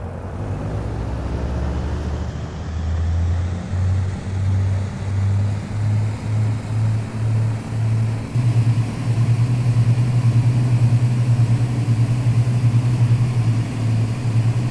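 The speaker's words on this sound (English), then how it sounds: "Slowly push throttles to full." Aircraft engines in a flight simulator spool up steadily from a low pulsing drone into a louder, constant hum, with a smooth rise in pitch and volume throughout.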